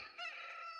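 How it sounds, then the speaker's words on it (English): A cartoon rooster's crow rings out as a short, bright, harmonic call, faint and alone, with a brief rising start before the sustained crowing note. "He's been crowing all night."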